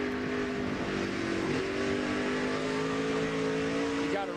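NASCAR race car engine at the Bashas Supermarkets 200, a loud, continuous roar with steady droning pitch as cars run at speed, dense track noise and a slight rise near the end.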